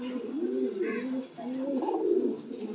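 Fancy Jacobin pigeons coo in a loft, repeated soft rolling coos rising and falling close by, one call overlapping the next with brief chirps in between.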